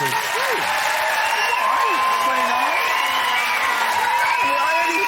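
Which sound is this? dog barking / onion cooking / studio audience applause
studio audience applause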